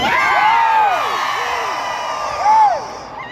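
Large convention audience at a Smallville panel with Erica Durance and Tom Welling joining in a sustained crowd vocalisation, rising and falling whoops and jeers over a loud, continuous crowd roar, with a louder swell near the end.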